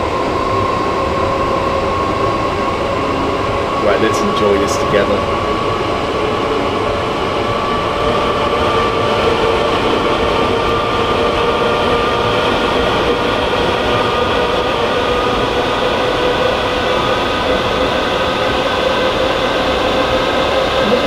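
A Class 455 electric train's traction motors hum and whine steadily from inside a carriage, a continuous mechanical drone with rumbling wheels; a few words are spoken briefly near the start.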